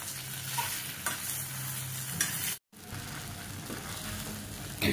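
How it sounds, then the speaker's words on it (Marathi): Fried idli is stirred with peri peri masala and plenty of mustard seeds in a hot pan. There is continuous sizzling with scraping strokes of a spoon and one brief silent break midway. "आता एकजीव करून मिक्स करू आपण छान."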